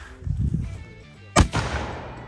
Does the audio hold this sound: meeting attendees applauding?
no